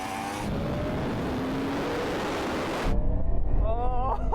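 Ferrari SF90, Porsche Taycan and Yamaha R1M in a rolling drag race from 50 mph: a steady loud roar of engine and wind for three seconds, then a shift to a rougher, gustier rush as a car surges past, with a voice briefly audible over the noise.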